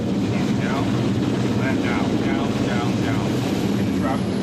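A Sea King helicopter comes in to land on the deck of HMCS Ville de Quebec, a loud continuous rotor and engine roar with rhythmic blade chop mixed with wind and ship noise, steady throughout.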